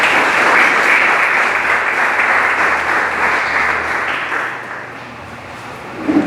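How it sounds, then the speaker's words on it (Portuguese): A church congregation applauds with loud, dense clapping that fades gradually toward the end, leaving a few louder claps at the close. "Aplauda mais uma vez,"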